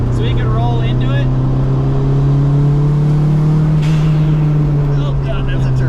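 A turbocharged car running E85 flex fuel, wastegate set near 7 psi of boost, accelerates with a loud, steady engine drone that climbs gradually in pitch, while a person talks over it.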